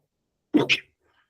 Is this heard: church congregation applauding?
no